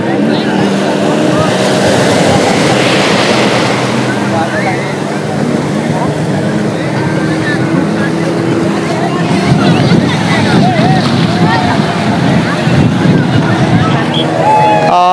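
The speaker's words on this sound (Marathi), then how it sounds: "स्पीड बोटची रायडिंग आहे" A speedboat runs at Dandi Beach in Malvan, its loud steady engine drone mixed with wind buffeting and water rush, with voices faintly heard in the background.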